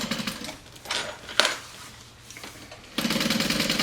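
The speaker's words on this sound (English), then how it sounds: "then top stitch each one of the sides of the seam allowance" A sewing machine topstitches along the seam allowance of a child's Sallie Tomato SHAW backpack, running in short bursts of a second or so with pauses between, then a steady continuous run at the end, moderately close.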